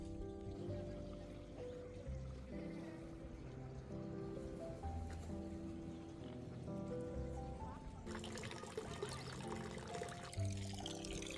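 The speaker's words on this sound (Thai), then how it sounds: "มีน้ำพุสำหรับดื่มด้วยค่ะ" Water runs steadily from a drinking fountain beside a lake, a soft continuous pour and trickle under faint outdoor ambience.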